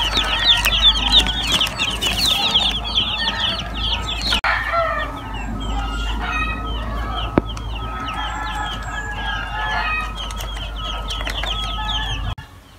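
A flock of broiler chickens in a coop clucks and chirps continuously and loudly at close range, a dense overlapping chorus of peeps and clucks over a low rumble, broken by a few sharp knocks.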